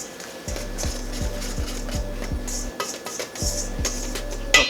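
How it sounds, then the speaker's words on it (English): A whisk scraping around a bowl to mix Goya adobo seasoning into flour for fried chicken, a close, rhythmic, regular clatter that repeats in quick strokes with a brief pause partway. "Just whisk that up"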